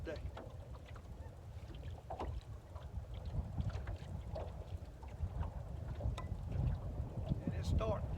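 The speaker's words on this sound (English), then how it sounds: "Wind is supposed to get like 15," Steady wind blows across open water on Lake Murray in windy conditions, a constant low rumble with gusty microphone buffeting that runs throughout the clip, with faint splashes and knocks from a fishing boat.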